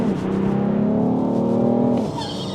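A BMW 335d launches and accelerates hard, its diesel engine note rising steadily and loud for about two seconds before easing off as the gear changes.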